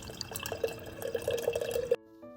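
Water poured from a container for Neapolitan pizza dough made with 00 flour, a short close trickling and dripping stream lasting about two seconds before it stops abruptly.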